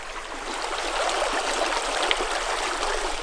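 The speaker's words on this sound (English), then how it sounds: "Now we're next to a little babbling brook." A small babbling brook beside a campsite on a cycling tour near Boise, Idaho: steady, close trickling and gurgling water, continuous and even, with no voices over it.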